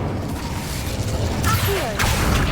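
Incendio fire spell cast in Hogwarts Legacy, a short magical whoosh and crackling burst with a rising swirl, loud against ambient game sound.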